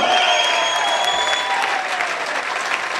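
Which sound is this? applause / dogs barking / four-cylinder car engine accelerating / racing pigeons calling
applause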